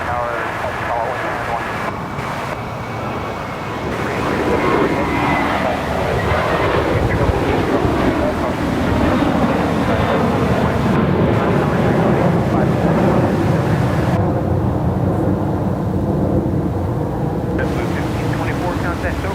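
An airliner taking off from runway 25 right at Los Angeles airport LAX, a steady loud jet engine roar building and holding for the whole span, with a sweeping pitch shift as the aircraft moves past.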